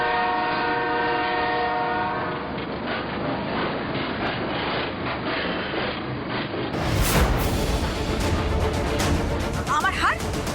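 A train pulling into a station with rumbling wheels and a horn, loud and close, while people talk over it in a drama scene with music before the noise swells.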